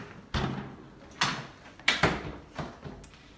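A door in a Ritz-Carlton Dubai hotel suite being handled, several sharp knocks and sliding thuds in quick succession, close and moderately loud, with no voices.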